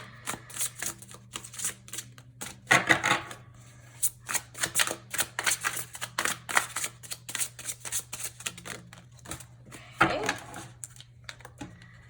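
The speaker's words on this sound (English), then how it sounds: "This one is so much harder to shuffle because it's huge." Rapid riffling bursts of a large tarot deck being shuffled, repeated in quick clusters with brief pauses, close by and crisp, with no talking.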